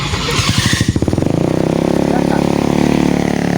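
A motorcycle engine sounds up close and loud, with a sharp rev that settles into a steady, buzzing putter and continues to the end.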